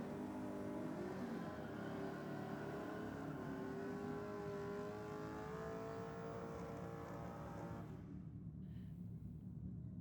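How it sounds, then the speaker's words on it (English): Blue Honda EK race car engine revving hard at the top end of a drag-strip burnout, a loud sustained rising engine roar with dense harmonics that cuts off abruptly near the end, leaving faint background. "Motor in the blue EK, sounding very nice at the top end of the burnout there."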